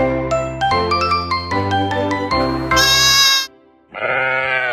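Goats on a farm bleat in a quick series of loud, close, quavering cries, one after another, followed by a brief pause and then one more drawn-out bleat.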